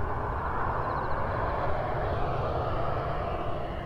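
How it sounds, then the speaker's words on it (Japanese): An airplane arrives overhead, making a loud, steady broadband roar of jet engines that holds evenly throughout, with no talking. "飛行機入ってきました"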